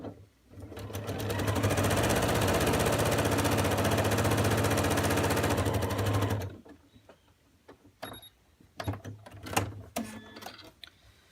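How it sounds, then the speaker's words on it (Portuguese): A sewing machine stitches quilt strips with a quarter-inch seam allowance in one loud, steady whirring run of rapid needle strokes for several seconds, then stops and gives way to soft fabric handling and scattered clicks. "vou colocar aqui a primeira faixa e já vou costurar aqui"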